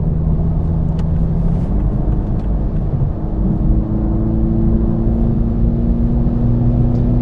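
A 2021 Toyota Supra 2.0 four-cylinder drives at highway speed, its engine a steady loud drone with a rising tone under constant road and wind rumble, continuous throughout.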